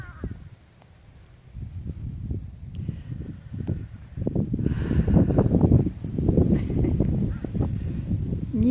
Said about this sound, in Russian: видно, что деревья шумят.